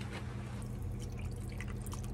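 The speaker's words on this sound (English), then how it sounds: "we're going to add some water" Water trickles and drips into a soup pot for potato soup, a soft, steady pour close by.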